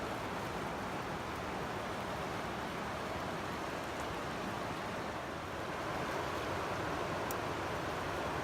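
A river flows right beside a campsite tent on the Appalachian Trail, giving a steady broadband rush of water that stays constant, fairly close and even throughout with no voices.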